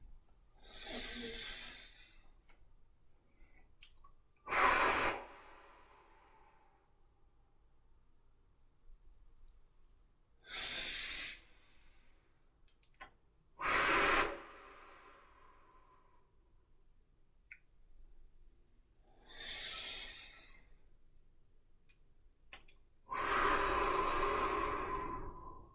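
Slow, deep breaths during qigong practice come one at a time, close and soft, with long quiet pauses between, each inhale or exhale a breathy rush lasting a second or two.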